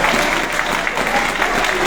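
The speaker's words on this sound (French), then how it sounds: "Applaudissez-les s'il vous plaît" An audience at a Paris gathering of African speakers applauds in a dense, steady burst of clapping that fills the room for a couple of seconds.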